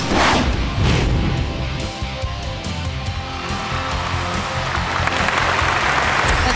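TV studio audience applause on a family variety show, a dense, loud, continuous clapping lasting several seconds with music underneath.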